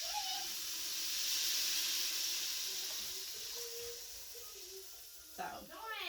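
Red wine poured into a hot Ninja pressure cooker pot during a pot roast hisses and sizzles steadily for several seconds, with a brief voice near the end.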